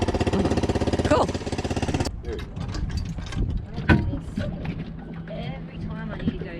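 A Honda outboard motor on a small boat runs close and loud with a steady, fast pulsing drone for about two seconds, then cuts off abruptly, leaving people talking over quieter background noise.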